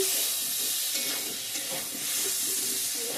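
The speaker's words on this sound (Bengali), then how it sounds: "আলু পটল জল দিয়ে দেবো এখন" Water poured over potatoes and pointed gourd frying in spiced oil gives a steady, close hiss of steam and sizzle that holds evenly throughout with no talk.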